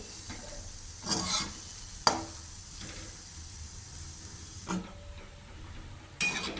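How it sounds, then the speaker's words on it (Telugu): Chickpea paatoli frying in a pan and being stirred, with steady sizzling broken by a few sharp scraping strokes of the spatula at irregular intervals, close and fairly quiet. "ఇలా కలుపుకుంటూ ఉండాలి మనం ఎందుకంటే లేకపోతే మాడిపోతుంది"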